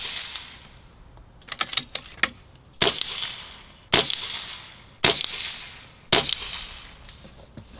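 Barra 1100Z .22 air rifle firing 18.3 grain pellets, four sharp, loud cracks spaced about a second apart, preceded by a few lighter mechanical clicks of loading.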